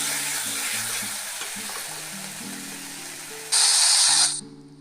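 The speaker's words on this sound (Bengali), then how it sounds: "আর দিয়ে দেব অল্প একটু লঙ্কা গুঁড়ো। দিয়ে ভালো করে কষিয়ে নেব।" Dal fried with a little chili powder in a pan for a Bengali fish-head muri dal, with a steady sizzle under light stirring, then a loud sharp hissing burst near the end that cuts off abruptly, no voices.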